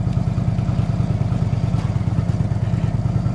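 An Indian motorcycle fitted with Freedom exhaust pipes and stage 2 cams idles close by, its low, lumpy exhaust pulsing in a steady loping rhythm with a faint mechanical clatter and no voices.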